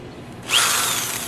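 A power drill whirs up sharply after a short quiet moment, then keeps running at a steady high-pitched whine, loud and close, while being used to start a Harbor Freight Storm Cat 2-cycle generator.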